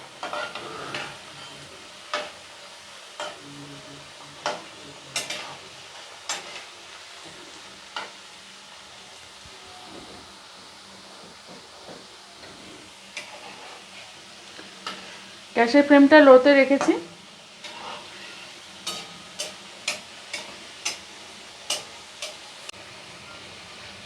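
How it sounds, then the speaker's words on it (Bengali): Puli pitha made from rice flour and maida fry four at a time in a pan over a low gas flame. A soft, faint sizzle carries sharp clicks and taps, a loud sputtering burst comes midway, and a voice speaks briefly. "পিঠেগুলো ভাজা হয়ে গেছে"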